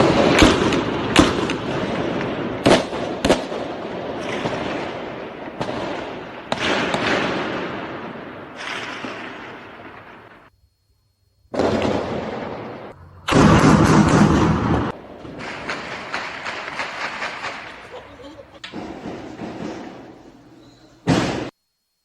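Repeated sharp gunshots crack out in irregular bursts during a shootout with military police in Minas Gerais, Brazil, some in quick clusters, with brief silent gaps between volleys.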